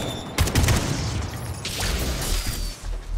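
AK rifle fire in the video game Atomic Heart, a few sharp, loud close-range shot bursts with mechanical clatter between them.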